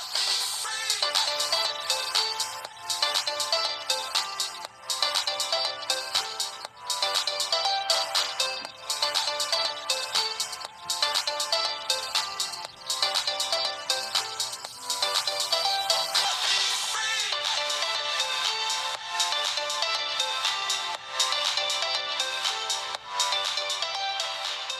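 Tecno Camon 16 Premier phone's mono speaker plays music: thin, bright, bass-light sound with a steady pulsing beat throughout, fairly quiet and with no talking.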